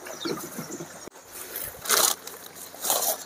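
Liquid sloshing and splashing as spray cans are filled for spraying a cotton field, close and moderately loud, in short bursts.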